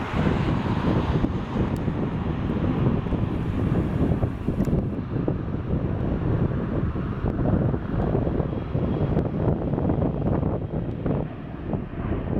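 A Horizon Air airliner in retro livery passes at an airport, heard as a steady, broad roar of jet engine noise mixed with wind buffeting the microphone, continuous and fairly loud throughout.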